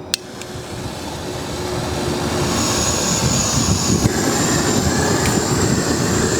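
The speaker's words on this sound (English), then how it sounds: "turn on the propane, turn on my handheld torch" Handheld propane torch on a Marathon MM100PT mastic mixer roars with a steady, loud, broadband hiss that swells after ignition and holds constant, close by, with no voices.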